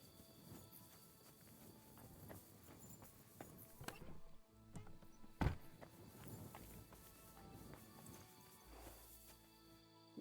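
Horse hooves clip-clopping at a walk in the video game Kingdom Come Deliverance 2, quiet and steady under a soft game ambience, with a sharp isolated knock midway.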